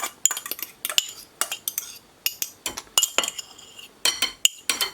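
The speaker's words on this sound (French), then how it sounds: "Je récupère le fouet et je mélange ces éléments." A whisk beats flour and baking powder in a bowl, giving quick bursts of bright metallic clinks and scrapes in an uneven rhythm with short pauses, close up and with no talking.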